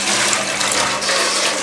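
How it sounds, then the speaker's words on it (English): An InSinkErator food waste disposer runs with water flowing in a biogas setup in Old Cairo, a loud steady rushing hiss with no talk. "Turn on the Insinkerator"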